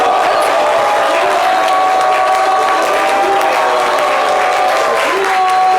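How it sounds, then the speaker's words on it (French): Loud, sustained studio audience applause with cheering and crowd noise on a French daytime show, continuous and close throughout. "applaudir fort pour l'encourager"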